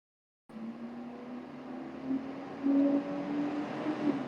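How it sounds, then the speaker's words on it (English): A loud truck rumbles by outside, a steady low engine drone with a faint hum that swells slightly as it passes, heard alone without voices. "it's a loud truck."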